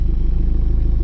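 A 2003 Volkswagen Beetle Turbo S engine running, a steady close low rumble with a quick even pulse throughout the short stretch, no talking.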